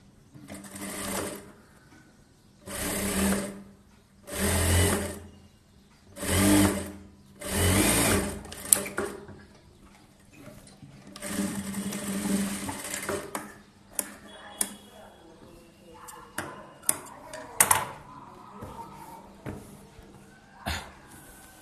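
Sewing machine stitching blouse fabric in bursts of rapid needle clatter, several runs of a few seconds each separated by short pauses, fairly close and loud with no talking.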